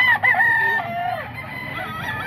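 A young gamecock rooster, a ball stag, crows once nearby in a short, strained cock-a-doodle-doo at a poultry sale, with faint background murmur beneath it.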